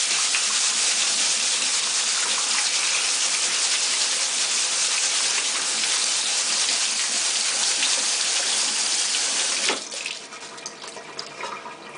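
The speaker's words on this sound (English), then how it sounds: "rinse the lentils under the tap water" Tap water pours steadily onto lentils being rinsed, a loud, close, broadband hiss that runs unbroken for nearly ten seconds before cutting off, followed by faint drips and handling noises.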